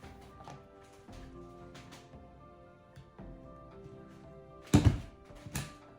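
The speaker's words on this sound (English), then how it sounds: "Where I'm stapling so much in the edge where the frame would fall" A shirt is stapled onto the edge of a picture frame, with soft handling sounds followed by a couple of sharp, close thunks near the end.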